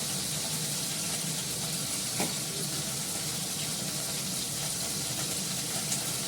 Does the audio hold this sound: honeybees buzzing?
no